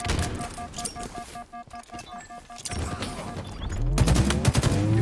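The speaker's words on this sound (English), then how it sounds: "Watch out, grenade." Grenade blasts and gunfire crackle during a ranked Halo Infinite match on the Bazaar map, with scattered shots and impacts, a beeping tone early on, and a heavy low boom building toward the end.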